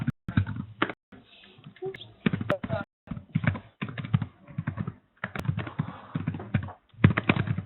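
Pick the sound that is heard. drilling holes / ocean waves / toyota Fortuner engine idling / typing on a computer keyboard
typing on a computer keyboard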